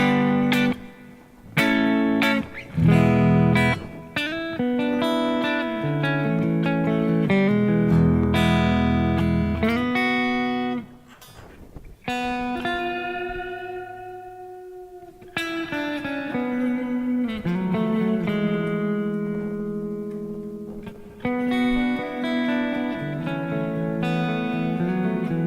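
An extended guitar passage played through a Korg AX30G processor with stereo reverb, mixing picked notes and chords that swell, sustain and trail off in a washy ambience, alone and fairly loud throughout.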